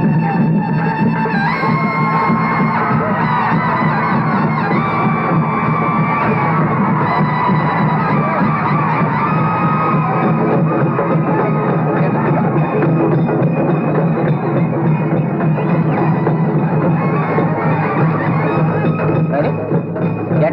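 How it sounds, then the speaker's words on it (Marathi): Noisy crowd of a Ganpati festival procession in a village street, a dense sustained roar of voices and cheering with scattered shouts and bangs, continuous and loud throughout. "या टायमाला गणपतीची मिरवणूक कशी काय निघाली?"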